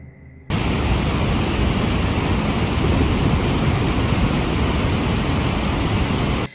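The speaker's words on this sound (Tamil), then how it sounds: "அந்த இருட்டு நேரத்தில் அந்த அருவியோட சத்தம் ரொம்ப கொடூரமாக பயங்கரமாக கேட்குது" A waterfall rushes at night, heard as a horror-story sound effect: after a quiet start it bursts into a loud, dense, unbroken roar of falling water that holds steady and then cuts off abruptly at the end.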